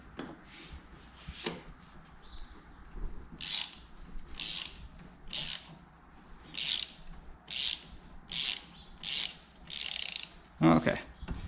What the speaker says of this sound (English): You're going to take a 1/2-inch ratchet. You're going to take the extension bar,